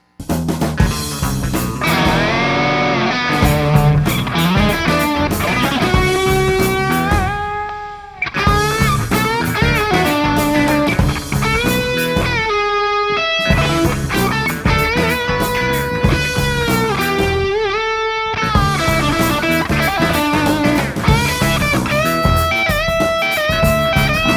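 A distorted electric guitar plays a continuous riff with bends and sustained notes, loud and dense, briefly dropping out twice before resuming.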